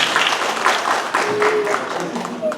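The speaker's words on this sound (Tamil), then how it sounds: "அவங்களுக்கு வந்து ஒரு கைத்தட்டல் கொடுக்கணும்" Audience applause at a Tamil debate (pattimandram) during a festival event, a loud, dense burst of clapping from a large crowd, with a voice talking over it.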